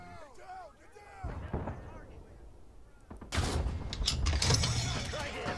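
Heavy gunfire from a .50 cal machine gun rumbles through a tank battle in the Ostfront M.A.C.E war game, building into dense, loud bursts with explosions in the last few seconds. Faint voices are heard beneath it.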